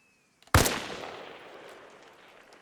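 A single loud armor-piercing shot from an SVD sniper rifle with a 4x scope cracks sharply in Arma Reforger, then its echo rolls away and decays over about two seconds, with nobody talking.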